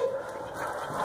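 A dog makes a short whimpering vocal sound with breathy panting indoors, close and fairly faint, lasting about a second.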